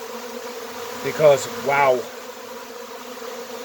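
A honeybee swarm moving into a hive gives a steady, faint insect hum with a couple of brief closer buzzes of bees flying past, and a voice speaks briefly over it.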